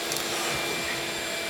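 A vacuum sucks debris out of a burnt Ferrari 360 in a garage, giving a steady, loud, broadband whoosh close to the microphone with no talking.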